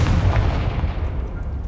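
Confringo fire spell in Hogwarts Legacy gameplay: a loud, close booming explosion with a heavy low rumble that decays over about a second and a half into a fading crackle; no speech.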